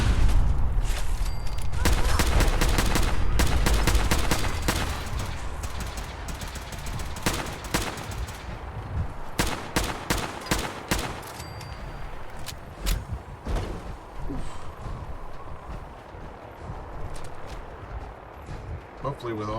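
A modified gun fires in rapid bursts of loud, sharp shots, dense at first and then more spaced out, with people talking in the background.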